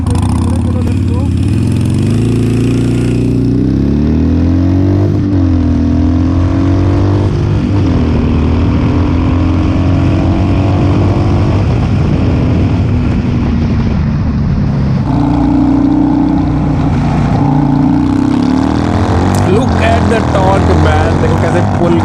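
A Harley-Davidson 883 motorcycle engine rumbles continuously and loud, its pitch rising repeatedly as the bike accelerates through gears, with a voice speaking over it at times.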